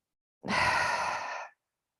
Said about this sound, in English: we'll inhale through the nose and open the lips to exhale